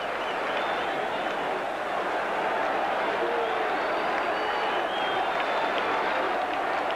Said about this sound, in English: the crowd is really wild at this point